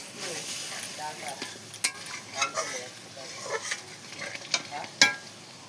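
Spice paste (masala) frying in oil in a pan while cooking egg and eggplant, a steady soft sizzle with scattered louder stirring scrapes and clinks close by, no talking.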